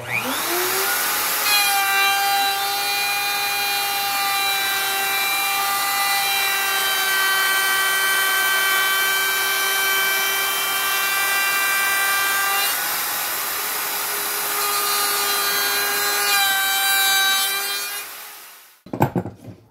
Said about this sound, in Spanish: Conectamos el router nuevamente